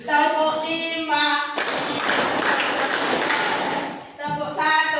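A primary school class claps on the teacher's call for five claps, a dense, loud burst of many hands lasting a couple of seconds, framed by children's voices chanting before and after.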